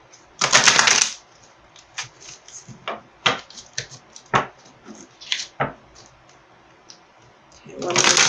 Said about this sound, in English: one more shuffle for you guys